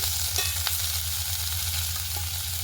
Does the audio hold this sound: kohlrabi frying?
yes